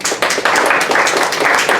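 An audience at a League of Women Voters city council candidate forum gives a round of applause, dense steady clapping from many hands that swells and holds loud for the whole stretch.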